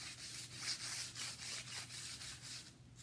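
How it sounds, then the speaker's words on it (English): Wadded tissue paper rubs gold leaf onto a picture frame in quick, even back-and-forth strokes, a soft rhythmic brushing close up with no talking. "I'm just going to wad up some of these little tissue papers and I'm burnishing the gold leaf"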